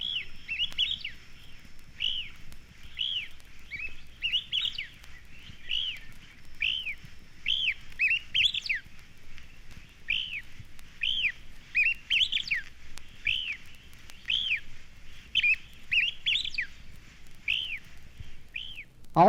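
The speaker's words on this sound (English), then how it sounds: "we hear a tropical kingbird calling from a perch by the roadside" Tropical kingbird calling from a roadside perch, repeated high twittering chirps in short bursts at a fairly regular pace, clear and moderately near over quiet background.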